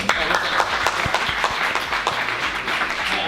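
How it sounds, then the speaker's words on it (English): Audience applause at a student and graduate entrepreneurial competition, dense clapping across the whole stretch with loud broadband texture, a few sharper individual claps standing out. "Big round of applause."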